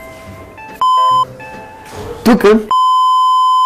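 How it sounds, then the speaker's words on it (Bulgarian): Electronic door buzzer at a school entrance, sounding as two loud steady beeps that cut through the room, with speech and brief clatter in between. "И когато някой звъни на вратата,"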